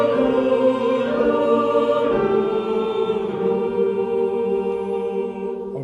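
A choir sings a melody line together with a tintinnabuli voice during a rehearsal, sustained blended vocal tones ringing steadily and fairly loud throughout, without speech.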